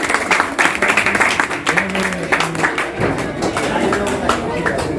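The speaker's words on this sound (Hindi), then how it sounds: "इनके लिए एक बार तालियां बजा दीजिए।" An audience at an All India Pasmanda Muslim Mahaz gathering in Saharanpur applauds the program organizer, steady loud clapping from a crowd throughout, with voices mixed in.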